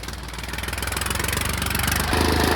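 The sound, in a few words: New Holland 39 HP two-wheel-drive tractor engine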